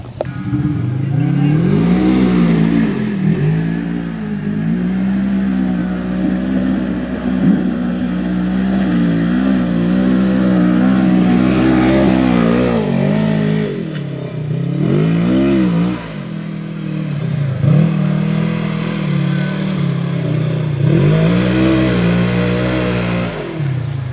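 A stock off-road vehicle on 28-inch tires grinds up deep ruts on an Appalachian Kentucky trail, its engine revving in repeated surges and dips, loud and close throughout.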